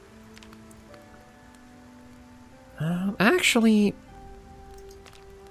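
Rain in Project Zomboid patters steadily in the background as a soft, continuous hiss, while a voice speaks briefly over it partway through.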